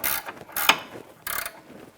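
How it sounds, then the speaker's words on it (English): An 18mm ratchet wrench turns the sway bar link nut on a 2009-2014 Nissan Maxima, giving short bursts of mechanical clicking in a few separate spurts, close up. "And my 18 ratchet wrench."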